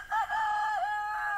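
A backyard flock of chickens, Barred Rock hens and a rooster among them, gives a loud, close, drawn-out crow that slides in pitch and breaks off near the end. Nobody is talking.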